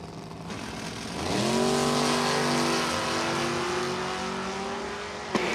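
Drag race cars launching at Numidia Dragway, a Chevrolet S10 and a Fox Body Mustang, engines rising from idle into a loud sustained roar that holds steady and close, with a sharp click near the end.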